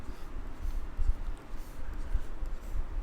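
Pen or marker writing out a math solution by hand for an O-level number pattern question, a soft continuous scratching with small strokes and taps, close and quiet, no talking.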